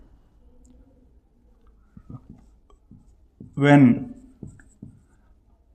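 Chalk or marker tapping and scraping on a board during a chemistry lecture on isomerism, a few short strokes scattered around a brief spoken word.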